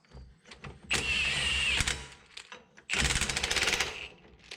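An impact wrench seats a Powertrax No-Slip locker on an AMC20 axle in two loud, close bursts of about a second each. The second burst carries rapid hammering pulses, with quieter mechanical clicks in between.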